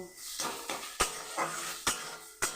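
Food being stirred in a metal kadai with salt, the spoon scraping and clanking against the pan in a few sharp, irregular knocks over a low background, close and fairly loud.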